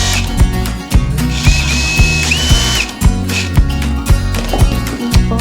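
A power tool whirs and ratchets in repeated short bursts while bolts are removed during the dismantling of a Yamaha YZ125 race bike, loud and close, with a rising whine in the middle and no talking.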